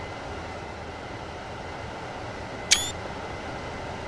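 Camera shutter clicks once, crisp and brief, while a picture is taken in Train Sim World during a coal run with a GP40-2 locomotive, set over a steady low rumble of the train.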